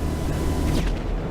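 Explosion in a video game, a dense roaring blast that fills the whole clip with a broad low rumble and a brief brighter burst near the end, no talk.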